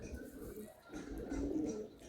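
Madrasi pigeons coo softly in a loft, a low gentle throaty burble, faint and close, with no one speaking.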